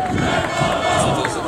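A large outdoor crowd at a civic event in Koszalin roars continuously with applause and shouting, a loud, unbroken wall of massed voices and clapping.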